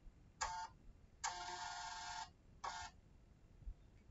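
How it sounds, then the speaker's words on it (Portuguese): A NIIMBOT B21 label printer prints an adhesive label, making three short mechanical whirring bursts, the middle one longest, close up in a quiet room. "E agora é só clicar em imprimir e ele vai imprimir."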